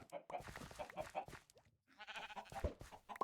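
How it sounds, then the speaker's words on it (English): Sheep bleat in the Minecraft modpack FTB Skies, a short wavering cry heard under steady talking from a man playing the game. "So now we have the energetic sheep in there."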